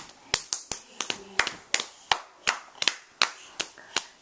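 Sharp hand claps ring out close and loud, about a dozen spaced at a fairly regular beat with slight unevenness, a faint voice murmuring briefly between them.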